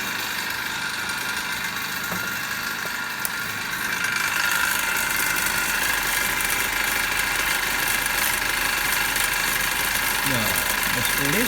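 A DC motor runs steadily in an electrical machines lab during a speed-control test at about 1522 RPM, giving a continuous mechanical hum with faint rattling throughout, slightly louder after the first few seconds.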